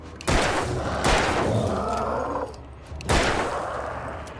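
Three sharp, loud six-shot revolver gunshots in the video game Alan Wake fire at uneven intervals, each with a booming report and a short echoing tail, no talk.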